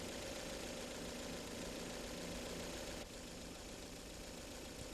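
A carburetted gasoline engine idles steadily, a continuous close-up drone with a rough, faintly knocking texture and a slight drop in level about three seconds in.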